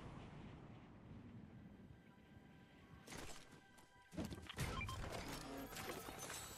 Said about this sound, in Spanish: Estoy disparando solo para meter miedo.